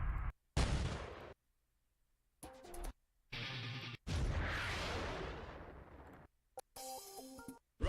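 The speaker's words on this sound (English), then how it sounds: "we're going to add a firing sound effect, like when the rocket is traveling through the air" Rocket launcher firing sound effects previewed in a Roblox game editor, with several separate loud whooshing blasts and bursts broken up by silent gaps and short electronic tones.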